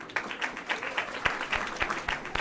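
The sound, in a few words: clapping in video game Rosewater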